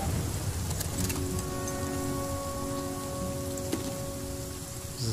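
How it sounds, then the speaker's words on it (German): Steady rain pours in the survival video game The Flame in the Flood, a dense, even hiss of drops on surfaces that continues without a break, with faint tonal game ambience underneath. "Oh, es regnet. Es regnet, es regnet."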